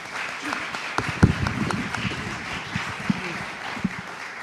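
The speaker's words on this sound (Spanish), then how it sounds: "pido un aplauso para nuestros 2 invitados" An audience claps at a university open lecture to welcome two guests, moderate and somewhat distant, with scattered louder claps over a steady wash of applause.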